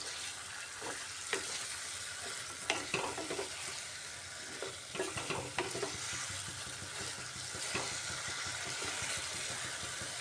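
Pointed gourd and grated boiled potato sauté in a pan with a steady, fairly soft sizzle and repeated scraping stir strokes, clustered in the middle and easing off later.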